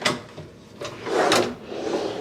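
Hotel room drawers slide open and shut with soft wooden scrapes and a muffled thud, a few close movements in a quiet room.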